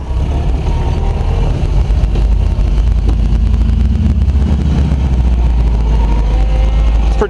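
An old Toyota car's engine runs steadily at idle, a continuous low rumble with a faint whine, close and loud throughout, no talking.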